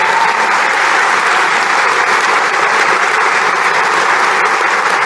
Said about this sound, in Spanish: Un aplauso para Juan Gelman.